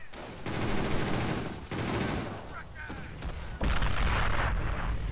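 A grenade detonating in the Company of Heroes battle game, with heavy rolling bursts of gunfire and booms that pulse loudly, ease off briefly, then surge into a stronger low blast.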